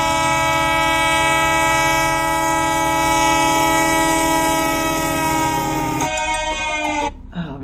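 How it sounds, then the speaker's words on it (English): A loud, sustained train-horn-like chord of layered steady tones opens a Somali song, holding for about six seconds before cutting off and fading. "I thought that was a train engine as well."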